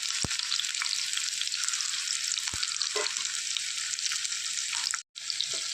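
Steady bright sizzle of onions and spices frying in hot oil for a spicy jackfruit seed chilli curry, with a couple of sharp clicks and stirring scrapes and a brief drop into silence near the end.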